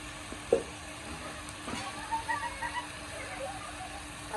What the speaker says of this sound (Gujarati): એટલે અસલ હળી જાય બધું તેલમાં કકડાઈ જાય